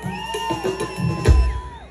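A crowd at a couples dance contest, set to a ritmo de la risueña, shouts, whoops and whistles in a lively overlapping burst that swells into a louder cheer near the end.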